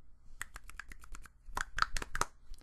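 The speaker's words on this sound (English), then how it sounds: "I wish I could snap sharper." A quick series of sharp finger snaps, about a dozen crisp clicks in an uneven rhythm, grouped into two bursts with a brief pause between them, close and moderately loud.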